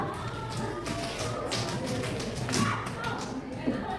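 Classroom of students clapping in a scout clapping game, a few sharp, close hand claps standing out over a steady murmur of voices and room noise.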